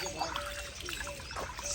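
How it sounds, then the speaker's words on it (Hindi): Running fresh water flowing and trickling steadily at a village in Pakistan, close and continuous, with faint voices in the background. "साथ साथ ये चल रहा है पानी का"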